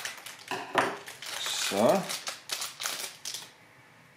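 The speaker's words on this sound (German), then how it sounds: "Da schneiden wir doch mal mit der Schere." Scissors cutting open the packaging of an Askari 2020 advent calendar door, heard as a series of close crisp snips and rustling plastic crinkles, with a brief spoken word partway through.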